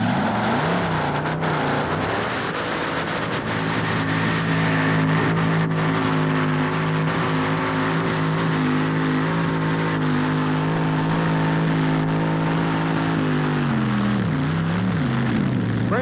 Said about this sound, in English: it's a 38 Ford, 426 Chrysler Hemi engine